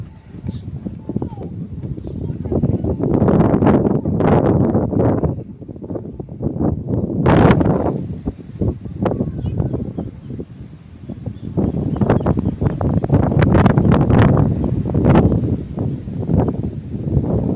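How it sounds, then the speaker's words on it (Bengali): Strong wind gusts across open ground in the Sundarbans, a steady loud rush with rustling bursts and buffeting on the microphone, mixed with broadband noise throughout. "আর এখানে প্রচন্ড হাওয়া।"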